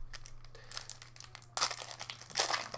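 A Bakugan Battle Planet card pack wrapper is torn open and crinkled close up, with quiet crackling at first and then louder bursts of plastic crumpling.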